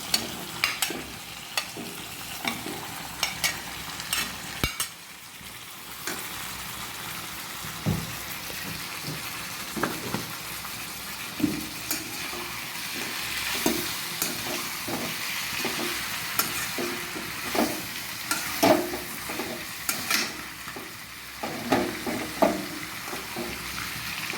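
Cut potatoes and pumpkin fry and get stirred in a pan for pigeon meat curry, a steady sizzle broken by frequent scraping stir strokes close by, with no talking.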